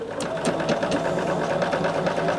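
A sewing machine stitches the second side of a piece in a fast, even, continuous mechanical whir, close and steady, with no talking.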